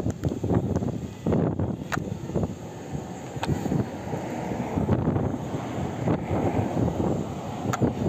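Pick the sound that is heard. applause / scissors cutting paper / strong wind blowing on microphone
strong wind blowing on microphone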